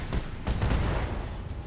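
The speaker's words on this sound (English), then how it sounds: "So the Emperor moves back" An Emperor mech firing its weapons at a Blackjack in the RogueTech BattleTech game, a dense rumbling volley of booming shots that runs continuously for under two seconds.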